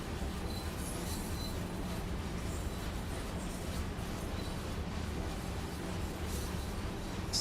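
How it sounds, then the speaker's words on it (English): A train on the Zugspitze railway in Train Sim World 4 gives off a steady, dense crunchy crackle of sparks over a continuous rolling rumble, loud and unbroken throughout. "You can hear the sparks sound crunchy."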